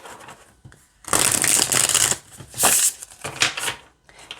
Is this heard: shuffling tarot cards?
yes